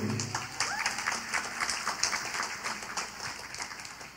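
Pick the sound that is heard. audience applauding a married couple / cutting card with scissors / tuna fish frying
audience applauding a married couple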